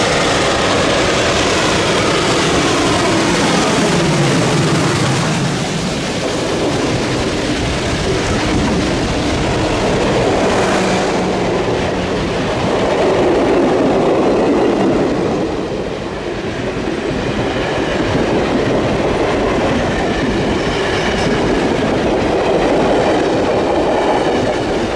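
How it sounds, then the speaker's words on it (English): Locomotive R&N 425 hauls a heavy fall foliage excursion train on wet rails through the Anthracite Region, a loud continuous rumble and roar of the engine working hard, with steady wheel noise on the track and no talk. "425 worked hard against the wet rails to get its heavy train back underway"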